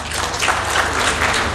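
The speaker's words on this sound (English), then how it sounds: "Let's clap for him" Audience applause for an institute principal at a devolution conference, a dense steady wash of clapping filling the short moment at even loudness.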